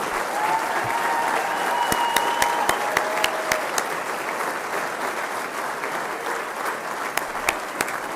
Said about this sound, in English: round of applause for head coach Will Wade?